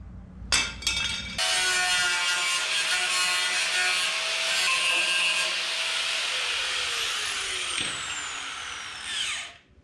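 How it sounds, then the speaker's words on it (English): An angle grinder cuts through the body metal of a 1977 Datsun 620, a loud steady whine sustained for several seconds after a short start, then winding down at the end. "Not the fastest job with a grinder, but it's possible."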